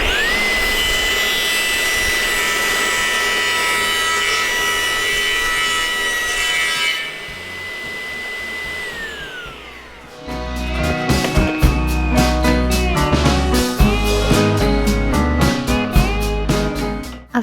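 Power saw cutting wood for a DIY tufted headboard, a loud continuous whining drone that briefly eases off, then resumes with rough, rattling cutting noise.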